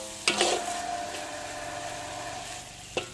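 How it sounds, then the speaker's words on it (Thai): Pork stir-fries with a steady sizzle in a hot wok, with a couple of sharp clanks of a utensil against the metal at the start and end. "มาดูแล้วเห็นผัดเลยหมูใส่กระทะ"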